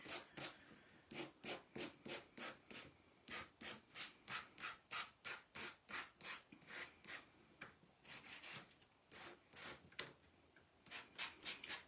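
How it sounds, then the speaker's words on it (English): Steady back-and-forth rasping of a small sanding block on painted wood edges of a kitchen sign, about two strokes per second, close up and continuous with brief pauses. "I'm going to go around the edges with my little sanding block"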